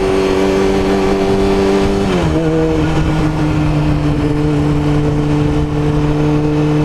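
A Yamaha R6 sport bike fitted with a new chain and sprockets, its engine droning loudly close by, with one sudden drop in pitch partway through as the gear changes and then a steady pull onward.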